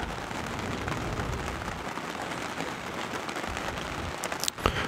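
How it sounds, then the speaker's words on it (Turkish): Rain falling outside, a dense steady hiss of drops on surfaces, even and fairly close, with a brief rustle near the end and no talking. "Yağmur yağıyor Gülsever."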